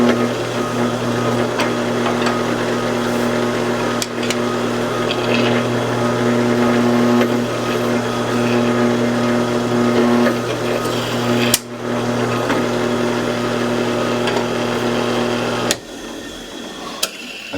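Drill press boring screw holes through custom Emerson Commander knife scales, a loud steady motor whine with a constant hum under it, broken by brief sharp knocks before the machine spins down at the end.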